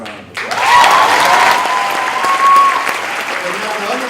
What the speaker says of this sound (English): So I would say give yourselves another round of applause.